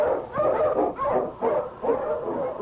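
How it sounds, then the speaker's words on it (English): Eskimo husky sled dogs, led by a strong lead dog on a snowy Yukon trail, bark and yip in a radio drama, with repeated close, excited barks in a steady rhythm of about five bursts. "The wonder dog King, swiftest and strongest of Eskimo lead dogs, blazes the trail through storm and snow for Sergeant Preston"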